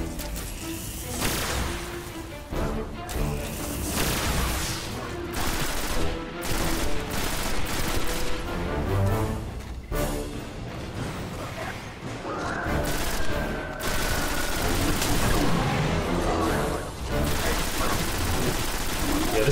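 The Bane of the Emperor gun in Destiny fires in long, loud sustained bursts amid explosions and game effects, with a person talking over the shooting.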